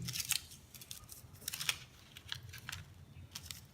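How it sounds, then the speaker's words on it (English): Scissors snip aluminum mesh into a cone shape for a drain cover, a run of quiet, close, crisp cuts and rustles in uneven rhythm, with no talking. "So I'll follow this shape, trim it inwards according to this template."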